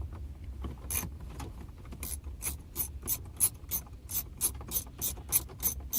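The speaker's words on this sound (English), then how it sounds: "the next step is to use a 10mm wrench with an extension like this, and then take these bolts off." A 10mm ratchet wrench on an extension loosens bolts inside a 2007 Lexus IS250 during a stereo install. Its pawl gives off crisp, close, rapid bursts of clicking in a steady back-and-forth rhythm, about a dozen strokes, over faint low rumble.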